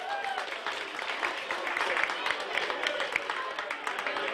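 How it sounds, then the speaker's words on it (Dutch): Warm audience applause in a club during a live show: steady dense clapping from a crowd, mixed with some cheering. "mag ik een heel warm applaus."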